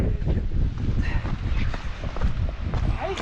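Loud, steady wind buffets a jacket hood during a run on the Pemi Loop trail, a continuous close roar with scattered footfall thumps throughout.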